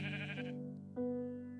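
Minecraft sheep bleat from the video game: a pair of wavering, nasal bleats, the first tapering off and the second starting sharply just under a second later, close and clear with nothing else audible.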